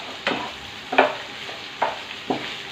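Peppers frying in oil: a steady low sizzle with several sharp spits and pops at irregular intervals, close by.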